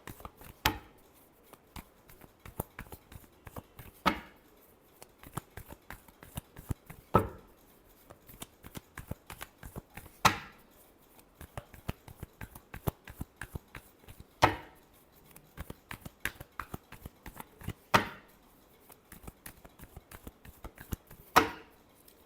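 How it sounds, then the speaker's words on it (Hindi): Tarot cards riffle and snap in a quiet room, short papery bursts scattered across the stretch with a few sharper slaps standing out, close and fairly soft, no voices. "Last shuffle."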